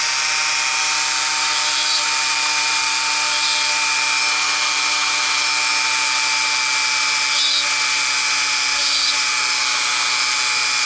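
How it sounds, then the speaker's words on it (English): A Dremel rotary tool smooths the lens holes of a rimless titanium eyeglass frame, giving a steady high-pitched whine with tonal hum lines and faint grinding changes as the bit works the metal. "we use the Dremel tool to smoothen out this part of the holes"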